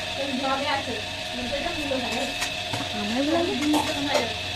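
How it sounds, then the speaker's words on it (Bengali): Green chillies and vegetables sizzle and crackle in a frying pan as they are stirred, a continuous close frying noise under ongoing conversation. "কাঁচা লঙ্কা ভাজা। সবজি ফ্রাই।"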